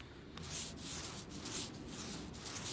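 A brush drawing paint across a metal garden table, a continuous soft rubbing hiss with rhythmic strokes, close but fairly quiet and with no voices.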